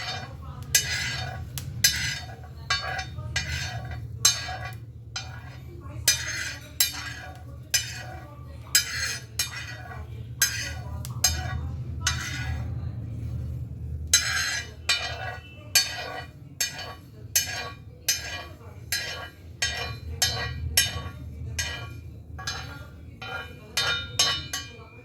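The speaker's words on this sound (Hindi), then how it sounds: "थोड़ा सा इसे कूट लेना है।" Spices for achar pounded in a mortar with a pestle: a long, steady series of sharp, close knocks with a metallic ring, repeated at a quick, mostly even rhythm over a low hum.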